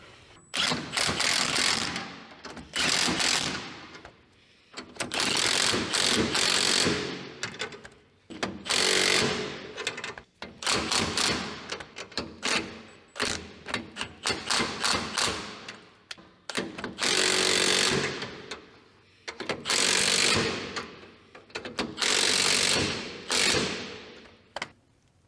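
U-bolt nuts on the axle of a barn-find 1964 Jeep CJ5 are cranked down with a ratchet, rapid clicking bursts repeating in long runs with brief pauses, close and loud.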